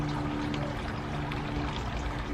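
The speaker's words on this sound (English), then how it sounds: "The fountain sounds so nice this time of the year." A garden fountain's steady flowing water splashes continuously, a constant broadband wash with a low hum underneath, no pauses or voices.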